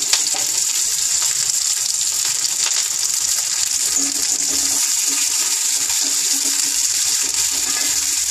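Karivadam, a sun-dried seasoned vadam, fries in hot oil while making vathakulambu, giving a steady, loud, continuous sizzle and crackle with no talk over it.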